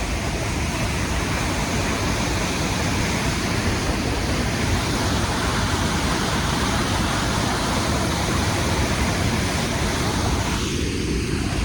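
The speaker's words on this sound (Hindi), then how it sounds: "गाइस इतनी स्पीड है ना पानी की कि अगर बंदा इसमें गिर गया तो दिखेगा भी नहीं।" Fast-flowing water rushes through a dam, a loud, steady, broadband roar that fills the whole stretch without a break, close and unchanging.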